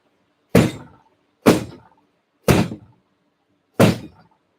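Four sharp, loud knocks of a soap mold banged down on a surface, each a hard thunk with a short ringing tail, evenly spaced about a second apart, close up with no talk.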